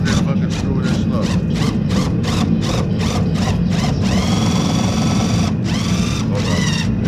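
A power driver runs in a quick train of short, close, buzzing bursts, then a longer steady whine, as screws go in to mount a custom RS wing on an ST.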